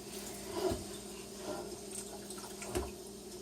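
Water runs from a kitchen sink faucet in a soft, steady stream, with a few louder splashes and clunks against the basin breaking through the continuous flow.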